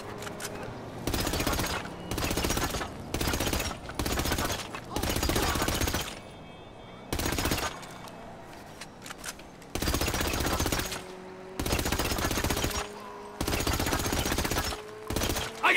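Gunfire and rockets in the video game GTA 5: loud, dense bursts of automatic fire, several seconds long, separated by short quieter gaps and backed by a low hum.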